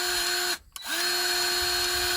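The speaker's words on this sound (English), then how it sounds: "electronic battery operated grease gun" A battery-operated electric grease gun runs with a steady high motor whine, cuts out briefly for a moment, then spins back up and keeps running close by.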